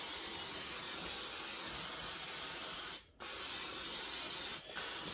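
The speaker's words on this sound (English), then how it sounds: "you're gonna need some Pam. I like to use the butter flavor. You're gonna use this Pam." Butter-flavor Pam cooking spray hisses into a pan in long close bursts. One continuous spray cuts off briefly, resumes, and pauses again for a moment near the end.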